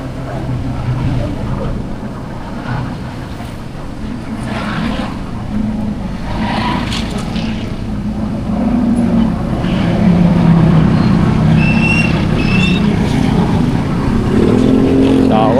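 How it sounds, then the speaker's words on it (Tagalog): Road traffic with cars and motorcycles passing nearby, a continuous rumble of engines that swells and fades as vehicles go by, growing louder toward the end. "Traffic na naman."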